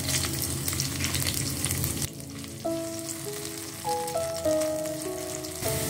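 Chopped onion and green chillies hit hot oil with a dense, loud sizzle that crackles steadily, then settles into a softer frying hiss under faint tonal beeps; no voices.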